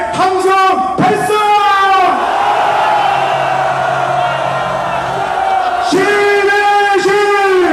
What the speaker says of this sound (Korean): 우리 신예식 대표님을 위해 함성 발사!